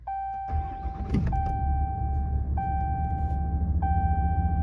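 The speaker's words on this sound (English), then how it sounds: "let's do a quick startup on the Ram 2500 diesel" A 2021 Ram 2500 Laramie crew cab with a Cummins diesel starts up: a warning chime rings repeatedly while the starter cranks and the engine catches into a low steady idle, close by.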